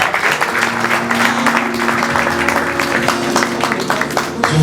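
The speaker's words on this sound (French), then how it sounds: "Des applaudissements pour moi, s'il vous plaît." Steady audience applause at a French slam poetry session, dense continuous clapping from a crowd filling the room, with a low sustained hum underneath and no voice on top.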